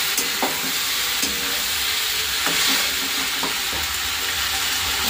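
Whole-wheat pasta fries in a pan while being stirred, a steady sizzle broken by scattered scraping clicks of the spoon against the pan.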